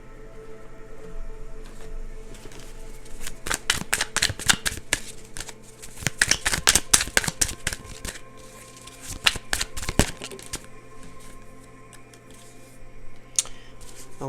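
Cards are shuffled over and over in quick riffling bursts with pauses between them, close and fairly loud, and no one speaks.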